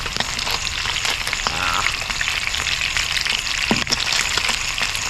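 Food frying in a pan crackles and sizzles loudly and continuously, close up, with small pops scattered through it and no talking.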